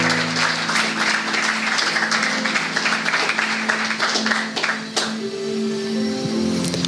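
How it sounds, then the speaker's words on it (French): A church congregation applauds and cheers loudly and steadily, with clapping, shouts and music blending into a dense crowd roar. "Acclame le Saint-Esprit ce soir. Acclame-le très fort."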